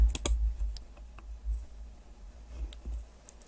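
A mouse clicks on the page numbering menu in a word processor, producing a few sharp, close clicks with quiet pauses between them and no talking.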